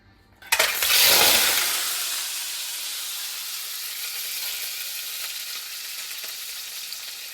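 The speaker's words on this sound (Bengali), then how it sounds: "এখানে প্রথমে ডিমগুলো ভাজবো, মানে ভেজে নিচ্ছি সামান্য একটু" Eggs drop into hot oil in a pan and burst into a loud, close sizzle that stays as a steady, slightly fading hiss for several seconds, with no talking.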